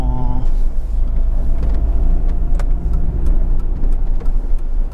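Peugeot 206 CC 2.0 16V from 2001 driving, its engine a plain, steady mid-range drone under road and cabin noise, heard from inside and fairly loud throughout.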